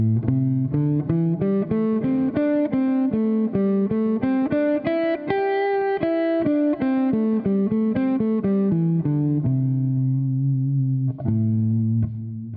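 A slow improvised electric guitar solo with distortion and a chorus-like effect, the melody winding up and down in sustained notes before settling onto held low tones and a couple of final plucks.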